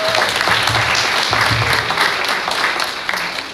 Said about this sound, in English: So if you would, give him a big round of applause.